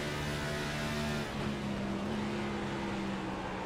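Onboard a race car lapping the Indianapolis track, the engine sends out a steady, droning tone. Partway through it shifts pitch slightly as the car moves through the corners. The sound is continuous, fairly faint and muffled, and no one speaks.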